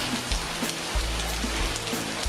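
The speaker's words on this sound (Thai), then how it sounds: "ทำให้น้ำฝนตกลงสู่พื้นโลก" Steady rain falls and patters on the ground in a dense, even hiss, with no other sounds.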